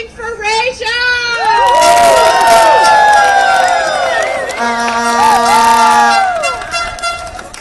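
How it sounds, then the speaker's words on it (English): A loud crowd at a Starbucks workers' strike rally cheers and whoops, with shouted voices, whistles and horn toots rising together and holding for several seconds. "please start clapping for Rachel!"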